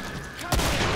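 A single sharp gunshot cracks out midway through a brief moment of Killing Floor gameplay, loud and close, followed by lingering noise.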